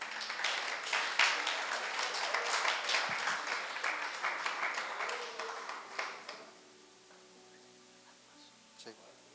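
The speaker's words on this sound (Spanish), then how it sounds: "Denle un aplauso a Moisés." Church congregation applauding a man named Moisés, a burst of dense clapping for about six seconds that then stops abruptly, leaving a quiet room with a few faint knocks.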